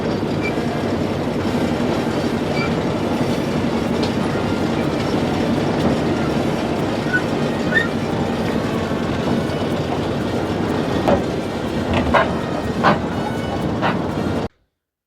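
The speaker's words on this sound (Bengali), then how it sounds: "এখন টয় ট্রেনের মধ্যে চড়ে পড়েছি" A toy train carries riders around the park at Howrah Rail Museum. Its steady rumble and clickety-clack run throughout, with brief wheel squeals near the end before the sound cuts off.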